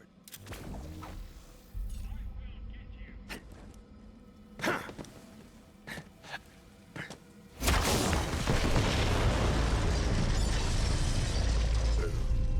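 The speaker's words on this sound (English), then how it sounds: "The explosion echoed through the forest" A bomb goes off in Borderlands 3 with a sudden heavy blast that becomes a loud, sustained rumbling roar, after scattered thumps, clanks and whooshing impacts in the seconds before it.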